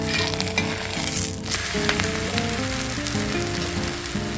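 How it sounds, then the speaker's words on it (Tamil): A ragi and green gram dosa sizzles loudly on a hot pan after being flipped, a dense, steady frying hiss with a low hum underneath and no voices. "ஒரு சைடு வெந்துருச்சு, திருப்பி போட்டுக்கலாம்."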